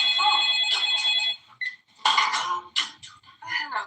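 A telephone rings in a movie scene, bright repeated bell bursts in short clusters, loud and close, with brief gaps between rings.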